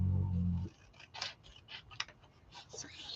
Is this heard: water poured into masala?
no